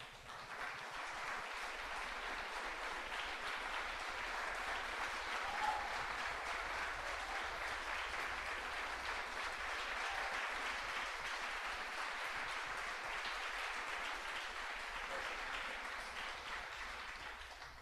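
Sustained, dense applause from a church congregation honoring standing veterans, steady and full throughout without letup, filling the room with no talking.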